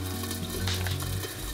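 Ingredients being stirred and mashed together in a bowl, a steady close-up scraping and swishing with light clinks of a utensil against the sides, running continuously with no talk.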